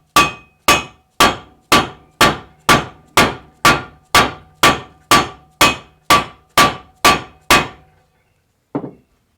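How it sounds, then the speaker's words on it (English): A small dead blow mallet strikes a 17mm socket to drive a gearbox part into place on a 1973 Apache Ramada, fourteen evenly spaced, sharp knocks followed by a pause and one softer tap. "we're going to do that with the same way we got them out, with a 17mm socket and my little dead blow mallet"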